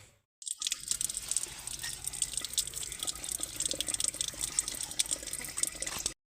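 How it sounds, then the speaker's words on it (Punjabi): Soapy water splashing and dripping steadily while a lantern glass is washed by hand, a close, continuous wet scrubbing and trickling with no talk. "ਦੇਖਣਾ ਸ਼ੀਸ਼ਾ ਵਿੱਚੋਂ ਵੀ ਸਾਰਾ ਗੰਦਾ ਤੇ ਉੱਤੋਂ ਵੀ ਸਾਰਾ ਗੰਦਾ ਸਾਬਣ ਨਾਲ ਧੋ ਲੈ"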